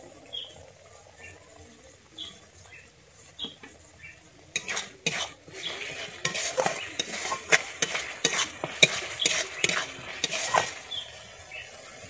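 Rinse water from a bowl is poured into cashew paste frying in oil for a vegetarian potol korma. A quiet scrape of stirring gives way to a loud burst of sizzling and spattering, with crackles that continue after.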